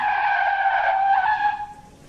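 A vehicle's tyres squeal in one long, loud skid as it brakes to a stop, then the screech fades away.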